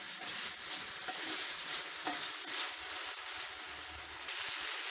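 Garlic chicken pieces shallow-frying in their own released oil, a constant hissing sizzle with occasional soft stirring scrapes and crackles, close and alone without speech.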